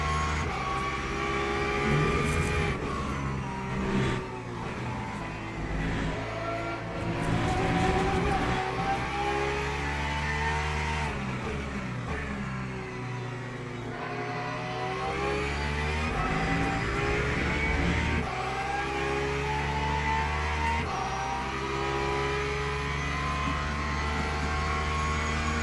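A Porsche race car engine at Imola in Le Mans Ultimate drones steadily throughout, its pitch sweeping up and down through gear changes and a deep dip near the middle, loud and continuous with no talk.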